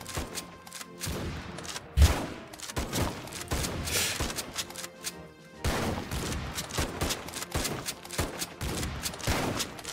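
Sniper towers in the Roblox game Tower Defense Simulator fire repeatedly, sharp cracks and thumps overlapping in irregular bursts amid game noise, with one heavy boom near the start.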